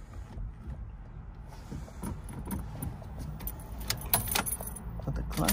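An ignition key turns in a Honda Civic EM1 to prime the fuel pump, bringing jangling keys and mechanical clicks over a low steady hum inside the car.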